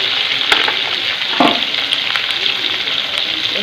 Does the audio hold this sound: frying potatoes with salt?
yes